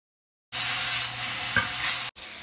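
Mushrooms, olives and small peppers sizzle in a hot pan as they are stirred, a close, bright frying hiss that starts abruptly, runs for about a second and a half, and then cuts out briefly.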